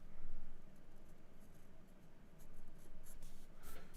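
A pencil scratches and scribbles on paper, close and quiet, in continuous short strokes of varying pressure while a thumbnail sketch is drawn, with no talking.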